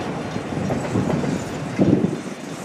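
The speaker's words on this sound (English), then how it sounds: "And I believe I see the end of this train." A long CSX freight train rolls past a grade crossing, led by locomotive 9005, its cars giving a steady, moderately loud rumble with clickety-clack from the wheels on rail joints, close by with no talk.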